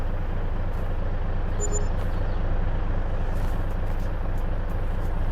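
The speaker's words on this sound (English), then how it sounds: "Is my truck too loud?" A loud truck engine in Farming Simulator 22 rumbles continuously at close range, low and steady, with a few faint high beeps and hisses above it.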